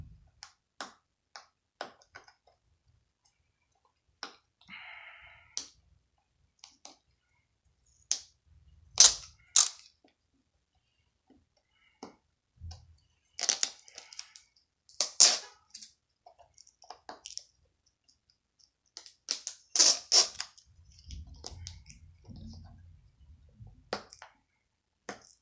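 Sealed DVD or VHS package opened by hand after removing its security stickers: scattered sharp crinkles, snaps and plastic clicks, some loud and close, spread across a long stretch with pauses between.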